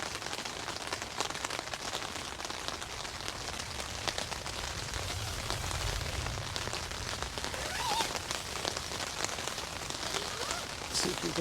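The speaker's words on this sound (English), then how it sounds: "Not a surprise, you could hear the rain." Steady rain falls outdoors on a totally overcast summer day in Sweden, a dense continuous patter of drops on surfaces, moderately loud and even throughout with a low rumble underneath.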